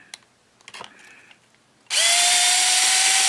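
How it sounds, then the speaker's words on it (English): A power drill bores holes in a Genesis model plane from Phoenix Models. A few faint clicks and knocks come first, then the drill kicks in abruptly and whines loud and steady to the end. "Now I can drill the other two holes"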